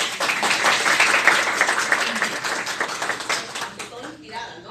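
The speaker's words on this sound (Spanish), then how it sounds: "La recibimos con un fuerte aplauso." Strong applause from the audience at a panel on women in mining, steady and full at first, then thinning out near the end as a voice begins to speak.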